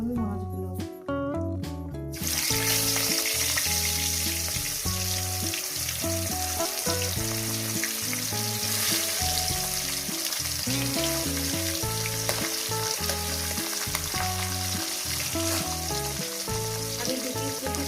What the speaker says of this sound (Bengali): তো বন্ধুরা, আমার তেলটা গরম হয়ে গেছে। দিয়ে দেবো সামান্য পরিমাণে লবণ, তারপর দিয়ে দেবো আমি মাছগুলো